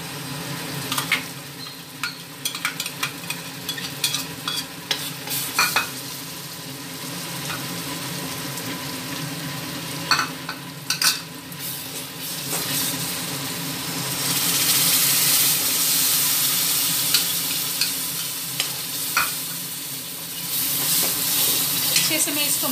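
Prepared masala paste is stirred into a hot frying pan for paneer butter masala, with close scraping strokes of a spatula over a continuous sizzle that swells into a louder hiss partway through.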